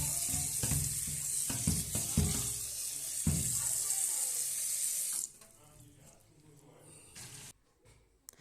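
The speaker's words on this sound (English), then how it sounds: "So we are pouring some water and cleaning it." Tap water pours steadily into a sink to rinse raw chicken for a Kashmiri-style chicken dish, with a loud hiss and splashes and a few clunks. The flow stops about two-thirds through, leaving quieter handling noises.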